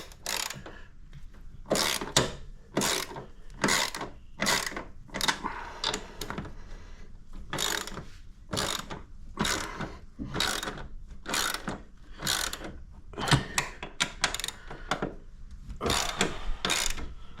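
Ratchet wrench working the strut top mount bolts on a Holden Captiva, a steady series of quick clicking bursts with short pauses between strokes, close and clear with no talk.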